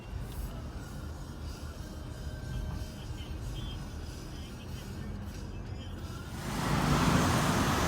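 Inside a brand new Mitsubishi SUV on a Grab taxi ride, a low steady engine and road rumble hums throughout, swelling into a louder whoosh near the end.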